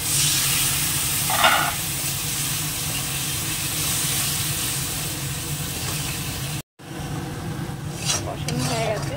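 Spice paste of chili paste and salt frying in a pan with a splash of water sizzles in a steady, loud broadband hiss, briefly cut off near the end and then resuming with scraping stir noises.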